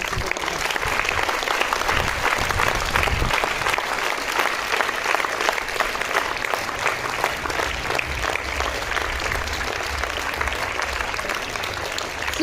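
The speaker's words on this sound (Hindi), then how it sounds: "सभी विद्यार्थी पर खड़े होकर मैम के लिए सीक्वेंस में तालियां बजाएं।" Students standing at a school morning assembly applaud a teacher with sustained, fairly even clapping. The sound is moderately loud and fills the whole span, with a few low thumps early on.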